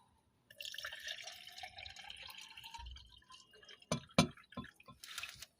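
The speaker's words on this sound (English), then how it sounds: "Add water." Water is poured into a glass cup holding a teaspoon of activated charcoal, a bright trickling splash lasting a few seconds, followed by a few sharp drips and clinks, quiet and close.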